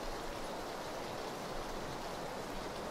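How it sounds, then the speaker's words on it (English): Steady, even rain hiss from a rainy match in PlayerUnknown's Battlegrounds, a constant broadband wash of falling rain with no speech, filling the whole stretch at a moderate level. "I hate matches where it's raining though"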